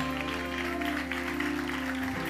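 Congregation in a church applauding during worship, a steady wash of clapping over sustained music with held organ-like tones, continuing evenly before tapering near the end.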